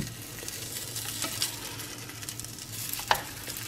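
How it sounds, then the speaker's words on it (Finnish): Food fries in a pan on a stovetop, a steady crackling sizzle with occasional louder pops and light stirring scrapes, close by and without speech. "Mä paistan niin, että se on rapsakka tuo"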